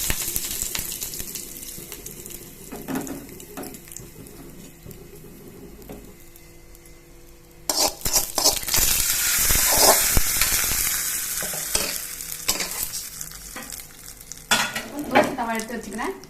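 Curry leaves dropped into hot oil in a pan for carrot chutney, a quiet stretch with light scraping then a sudden bright sizzle and hiss that keeps crackling as they are stirred, with a few utensil knocks near the end.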